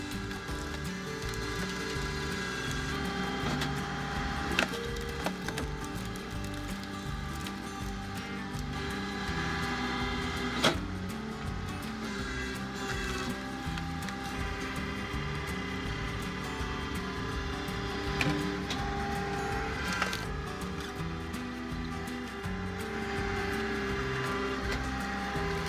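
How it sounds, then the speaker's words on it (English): An Oregon 28-ton hydraulic log splitter, working in vertical mode, runs with a steady engine drone while the wedge pushes through logs, giving occasional sharp cracks and creaks of splitting wood over the continuous hum. "The Oregon 28-ton beast crushes logs in vertical mode with unforgiving precision."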